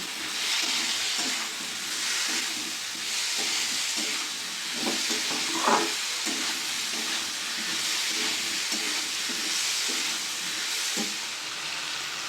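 Tomatoes and salt sauté with ash gourd in a pan, a soft steady frying hiss with faint intermittent scrapes and taps of a spatula, fairly distant and without voices.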